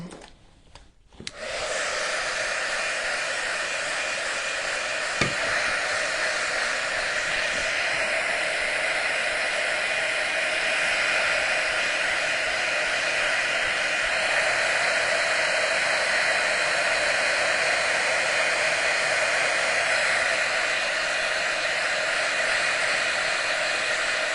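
A hair dryer blows steadily on a painted vintage Christmas pitcher, switching on after a brief click and then running as a constant, loud whooshing hum with no talk.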